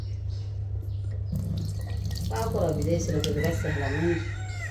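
A rooster crows partway through, its drawn-out call rising over a steady low hum, with people talking nearby.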